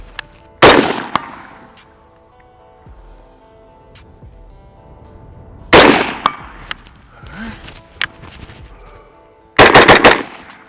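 Primary Weapons Systems MK116 Mod 2 rifle with a Geissele trigger fired in three separate rapid bursts, each a loud, sharp cluster of close shots with quiet gaps between.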